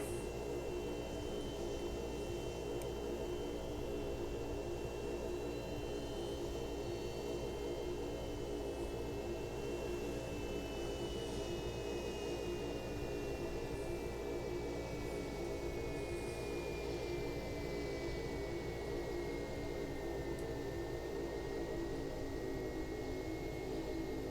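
Carenado TBM 850 turboprop taxiing in X-Plane 11, a steady engine hum and whine with a slowly shifting high tone, constant and unbroken throughout, with no talk.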